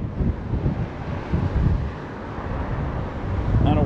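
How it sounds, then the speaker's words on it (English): Strong wind buffets a microphone outdoors at a site with a diesel pump, a loud continuous low rumble and roar that swells and eases throughout with no other clear sounds. "Wind is getting very strong."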